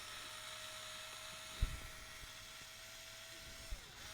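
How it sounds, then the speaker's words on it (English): A small power screwdriver backs screws out of the axle link mounts on a Traxxas TRX4 RC truck, a thin steady whine held for a few seconds and then winding down, with faint clicks from handling the parts. "Just a couple screws, only takes a couple minutes when you're using a cool little power screwdriver like this one."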